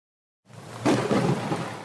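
A storm sound effect starts abruptly from silence and swells into a rolling rumble of thunder over a hiss like rain, loud and sustained to the end.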